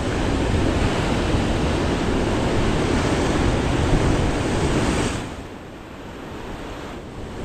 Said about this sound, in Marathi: लाट मोठी मोठी येतात हा. समुद्र रफ आहे एकदम.